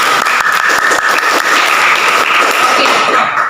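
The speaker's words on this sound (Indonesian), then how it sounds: "Tepuk tangan untuk kalian." Close, loud applause from a group of secondary school students in a classroom, a quick dense run of claps lasting a few seconds.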